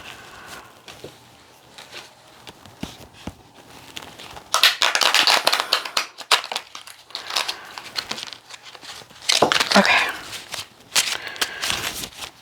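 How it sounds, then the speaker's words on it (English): Tarot cards shuffled by hand in a quiet room: two bursts of crisp papery riffling and flicking, separated by soft handling noises, with no talking. "One more shuffle."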